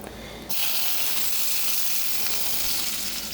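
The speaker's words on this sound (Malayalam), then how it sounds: "സെയിം പാനിൽ നമുക്ക് കുറച്ച് ബട്ടർ ഇട്ട് കൊടുക്കാം" Butter melting in a pan while making creamy white sauce pasta gives a bright, hissing sizzle that starts suddenly and then holds steady and fairly loud, with no talking.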